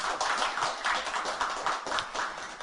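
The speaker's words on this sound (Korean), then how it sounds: "네, 다 함께 박수로 환영해 주시죠" Audience at a media cooperative officer-candidate debate claps to welcome a panelist being introduced, a steady mid-level patter of many hands filling the room with no voices over it.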